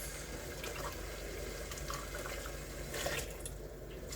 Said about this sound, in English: So what I'm going to do is just add my broth first.